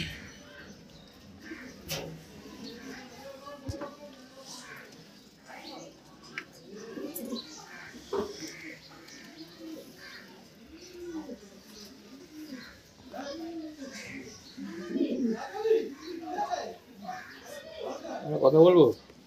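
Racing pigeons in a loft coo in repeated low bubbling phrases that build toward the end, with people talking and other birds chirping around them.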